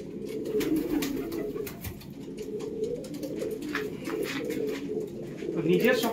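Pigeons coo in a breeding loft holding several hundred birds, a layered chorus of soft throaty cooing running throughout, swelling near the end, with a voice talking over parts of it.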